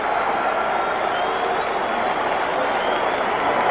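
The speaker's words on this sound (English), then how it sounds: "Crowd roars now as Muhammad Ali comes down the aisle" An arena crowd roars for Muhammad Ali as he comes down the aisle before his bout with Oscar Bonavena, a steady, loud, unbroken wall of cheering and noise with no break.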